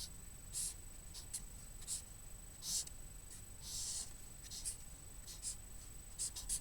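Pen or marker strokes on a board or paper while a bolt and nut diagram is drawn by hand: short scratchy bursts in an irregular rhythm, fairly faint over a steady background hum, with no talking.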